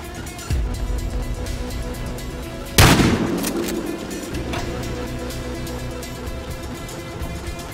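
A single loud shotgun blast from the video game Battlefield: Hardline cracks out mid-clip and rings into a decaying tail, set against a steady bed of in-game ambience and engine rumble.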